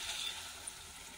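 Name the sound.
water poured into pan of peas and potato curry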